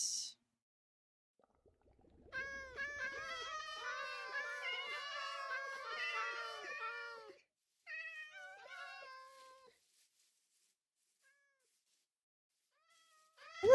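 Several cats meowing in a video game, a dense overlapping chorus of harmonic mews for about five seconds, a short pause, then a few more meows before silence.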